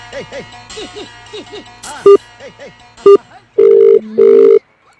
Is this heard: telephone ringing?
yes